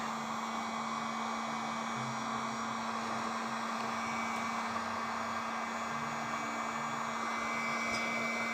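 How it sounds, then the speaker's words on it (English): A hair dryer blows on watercolor lettering with a steady, continuous whirring roar and a low hum underneath, holding even and fairly loud throughout with no talking. "Now those are going to lighten up once I put the dryer to them tremendously"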